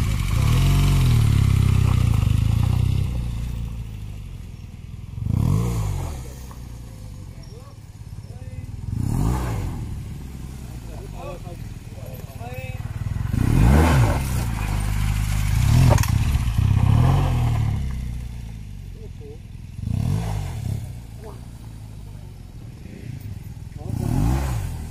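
A motorcycle does slow rear brake skids and power slides on rocky ground, its engine revving in repeated surges while tires scrabble and gravel clatters, close and loud, with some talking over it.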